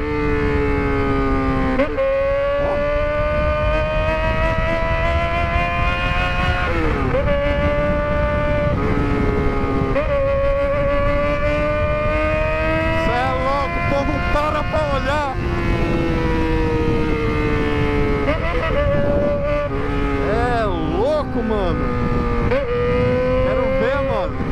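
A Yamaha XJ6 motorcycle with a 4-inch exhaust pipe drones loudly and continuously, its tone rising and falling in long swoops as the engine revs and shifts.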